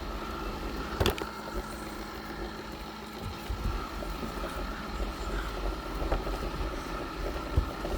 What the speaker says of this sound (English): Roomba ride along.